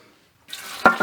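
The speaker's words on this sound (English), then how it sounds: "strain the water off the shallots" Hot water is strained off shallots, a short splashing pour after a moment of silence, close and loud with a sharp burst near the end.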